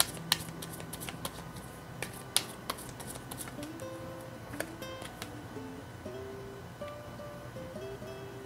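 Tarot cards are shuffled and handled close up in soft, repeated riffling and sliding strokes, with a few sharper taps between, against quiet background music and no talk.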